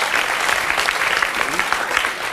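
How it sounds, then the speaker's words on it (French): A television studio audience claps steadily, a dense, continuous wash of applause with no talk over it. "on peut applaudir Gérard Majac pendant qu'il va s'asseoir"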